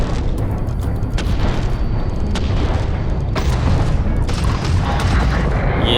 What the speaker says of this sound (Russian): Стреляю по нему.